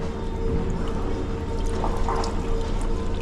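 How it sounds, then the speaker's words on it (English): Running water pours steadily as hands are rinsed during repair work on an ICETRO ice machine, a constant close splashing hiss with no pauses. "I'm gonna rinse my hands off"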